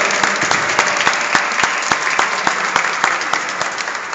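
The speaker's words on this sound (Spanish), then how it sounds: "nosotros nos vamos a despedir con un aplauso" A crowd at a church gathering applauds loudly and steadily, many hands clapping close together with a few sharper claps punching through the continuous rattle.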